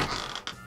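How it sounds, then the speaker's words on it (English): A toy zoo door, part of a Little People animal playset, creaks open in a short, quiet rasp with a brief second creak near the end, heard close and alone. "Let's open our door."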